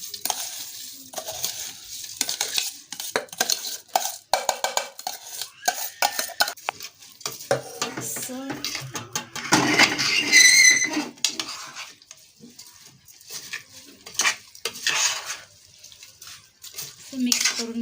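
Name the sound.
stirring rice and vegetables in a pot for veg pulao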